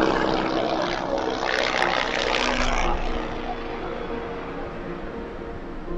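A helicopter passes overhead as a loud, steady rotor and engine roar that fades somewhat after the first half, with no talking.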